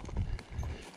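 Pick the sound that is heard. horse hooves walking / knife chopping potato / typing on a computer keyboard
horse hooves walking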